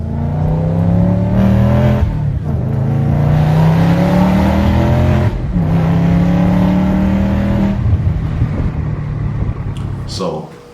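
Audi S4 fitted with xspower downpipes and a cat-back exhaust, revving loudly up close in repeated rising pulls with brief drops between, a deep rumbling roar throughout.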